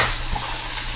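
Vegetables frying in hot oil for chow mein, a steady close sizzle with faint stirring, no talk.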